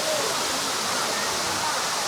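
A waterfall on a mountain hiking trail in Hunan, its broad steady rush of falling water filling the air close by, with no talk over it.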